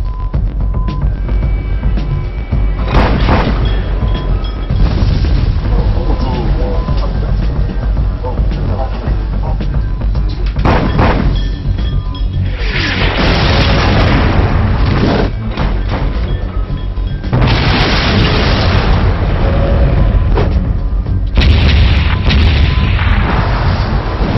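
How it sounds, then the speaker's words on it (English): Repeated heavy booms and blasts of explosions near a navy ship, loud and close, one after another with rumbling gaps between them. "These explosions would have been enough to cause human casualties on board Huron"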